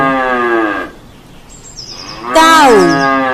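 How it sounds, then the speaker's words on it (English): Cattle moo twice, a long low drawn-out call followed after a short pause by a louder, higher bellow, close and with no talk. "Cow,"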